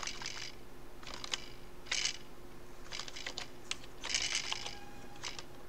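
Typing on a computer keyboard while entering data into a spreadsheet: soft clusters of quick key clicks in irregular short bursts over a quiet room hum, with no talking.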